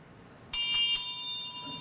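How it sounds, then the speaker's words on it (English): An antique family bell once used to call people to farm meals and to summon pupils to a one-room school is struck three times in quick succession, its bright ringing tones then sustaining and slowly fading, close and clear with no voices. "the bell was in my grandmother Mudge's family, and they used it to call folks for meals on the farm"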